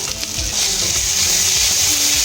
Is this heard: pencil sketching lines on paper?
no